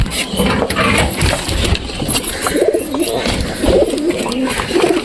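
Lakka fantail pigeons coo in a cage, several birds calling close and loud in overlapping rolling coos, with rustling and shuffling of wings and feet among them.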